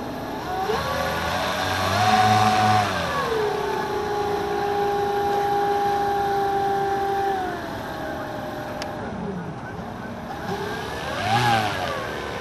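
A quarter-scale model seaplane engine buzzes on the water during taxi trials, its whining pitch rising and falling as the throttle opens and eases, holding steady in the middle before revving again near the end.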